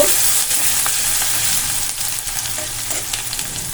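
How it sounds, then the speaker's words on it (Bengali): Matar paneer frying in a pan over a medium gas flame, a steady close sizzle broken by the scrape of stirring, with no talk. "তো দেখো ভালো করে আমি নাড়াচাড়া করে নেব।"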